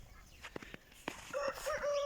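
Chickens at an outdoor coop on a farm: scattered clucks and soft fowl calls close by, followed by a rooster crowing, loud and sustained, through the second half.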